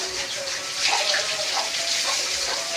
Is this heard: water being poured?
yes